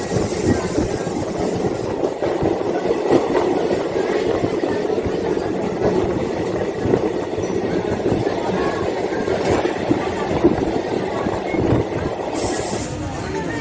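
A DEMU train runs along a track beside a highway, heard from onboard as a steady, loud rumble and rattle of wheels and carriage that continues throughout, with no speech.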